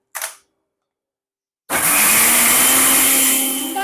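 A mixer grinder whirs loudly and steadily as it grinds peanuts with curd and a little water, starting abruptly after a short clink and then running alone at full power.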